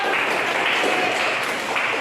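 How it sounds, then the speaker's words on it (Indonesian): Students in a classroom clap together in a short, steady burst of applause, filling the room evenly and closely without pauses. "Tepuk tangan dong."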